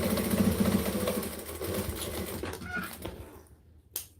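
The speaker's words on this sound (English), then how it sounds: "Then we just sew the pocket down." A sewing machine stitches down a bag pocket, running in a steady mechanical whir that slows and stops partway through, leaving near silence with one brief knock at the end.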